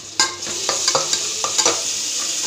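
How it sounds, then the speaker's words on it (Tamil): Crushed ginger and garlic sizzle steadily in a hot oiled pan for coconut milk rice, with several sharp scraping stirs of a spatula popping up over the frying hiss. "போட்டு நல்லா வதக்கிக்கோங்க."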